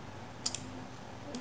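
Two quick, faint mouse clicks close together, then a third single click a moment later, over a quiet background hum while editing in Canva.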